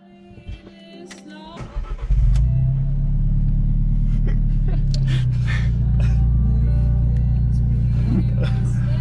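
An Alfa Romeo 4C Spider's turbocharged 1.8 litre engine starts up after some light clatter, then settles into a loud, steady low rumble with a few revs rising over it.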